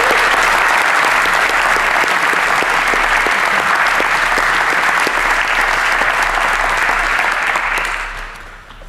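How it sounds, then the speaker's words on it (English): Sustained loud applause fills the House of Commons chamber during a UK Youth Parliament sitting, many hands clapping steadily before fading out at the end. "So a round of applause,"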